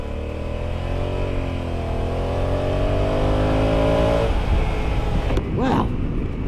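A 2020 Honda Africa Twin Adventure Sports DCT ES+ (CRF1100L) motorcycle accelerating, its exhaust rising in pitch through the gears, loud and close, then turning into rougher, grittier engine noise.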